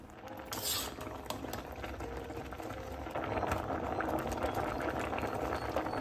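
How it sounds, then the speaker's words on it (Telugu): Mutton curry bubbling in a pot on a home kitchen stove, a steady low simmering hiss with soft liquid pops that swells slightly louder partway through, close and alone. "ఇక మటన్ కర్రీ అయితే చక్కగా బాయిల్ అయిపోయినట్టే."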